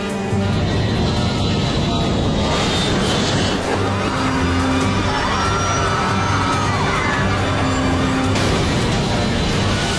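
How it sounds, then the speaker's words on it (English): Comair Flight 5191, a regional airliner, roars on its takeoff roll in a loud sustained jet engine rumble with a rising whine, heard from inside under faint voices. "as 5191 prepares to lift off"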